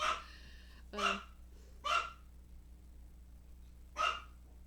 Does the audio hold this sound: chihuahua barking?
yes